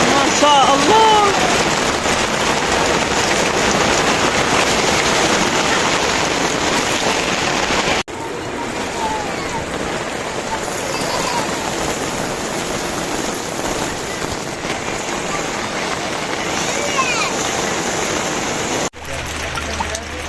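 Hail pelts a tent during a stormy night camping, a dense, steady hiss of ice hitting the fabric that continues without a break, loud and close, with a brief drop near the end.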